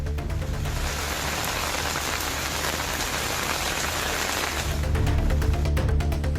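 Moderate rain falls over Kovilpatti and its surrounding area in Tamil Nadu. It makes a dense, steady patter on surfaces that swells slightly louder near the end, with no voices.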